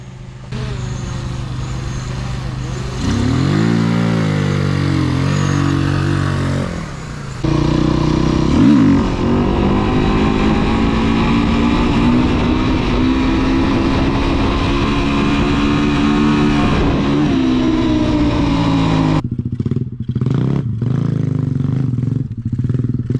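Motorcycles ride around a makeshift track, the engines revving and droning continuously at close range with pitch rising and falling, then dropping to a rougher, choppier idle near the end.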